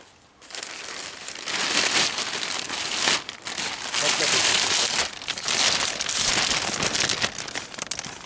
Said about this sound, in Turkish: aç bakayım Ayaz poşetini balığına bakalım